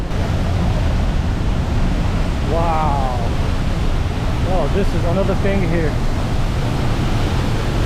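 A strong, fast waterfall in Iraqi Kurdistan roars as a loud, unbroken wash of rushing water, with a voice briefly exclaiming over the torrent.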